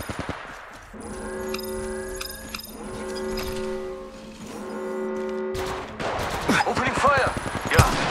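Video game gunfire rattles in several bursts amid electronic tones and game effects, followed by a denser flurry of shots near the end, moderately loud over a layered game soundtrack.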